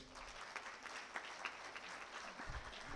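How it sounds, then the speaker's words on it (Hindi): Applause from the audience at a business conference hall, a steady wash of clapping held for a few seconds with a few sharper claps standing out. "तो आप सब अपने लिए प्लीज़ एक तालियां बजाएं"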